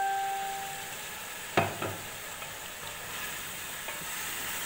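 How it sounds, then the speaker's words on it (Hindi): Boiled mutton frying in roasted masala for yakhni pulao: a soft, steady sizzle, with a couple of clear scraping stir strokes near the start and a faint knock later, and no talking. "अब ना 5 से 10 मिनट मैं इसे भूनती हूँ"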